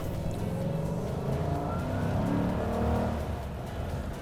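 The 5.3 engine of a 2014 Chevrolet Silverado LTZ pickup gives a deep, steady growl while driving, heard from close inside the truck. It rises gently and then eases, with road rumble underneath and no talk.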